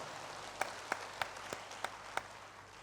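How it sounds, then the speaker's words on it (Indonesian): In a church, a few sharp, evenly spaced hand claps from the congregation ring out over a soft, steady background hiss, with no speech. "Berikan tepuk tangan bagi Tuhan."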